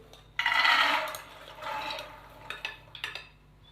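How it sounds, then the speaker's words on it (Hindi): Soaked, drained black chickpeas tip into a cooking pot, giving a sudden wet rattling pour. Quieter shifting and clinking follow, then a few sharp knocks of utensil on metal, close by with no talk. "तो सबसे पहले हम चने शामिल करेंगे।"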